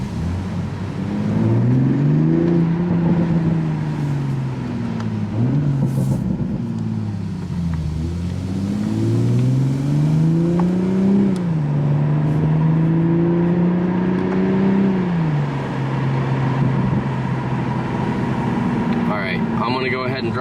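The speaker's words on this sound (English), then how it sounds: "we are going to do a pull on this road with the windows down so you guys can kind of hear it" A Toyota MKV Supra engine pulls hard with the windows down, its note climbing and dipping through rising revs and gear changes. The sound is loud and steady, with road and wind noise underneath.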